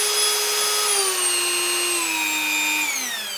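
A Dremel 4000 rotary tool spins at 30,000 RPM with a loud, close, high-pitched whine whose pitch sags slightly and then drops as it slows near the end.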